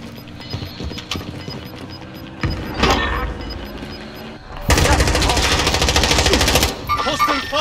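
Hostile automatic gunfire in Call of Duty Warzone on Rebirth Island, with bursts of rapid shots building into a loud sustained stretch of fire near the middle and end, over in-game voice callouts.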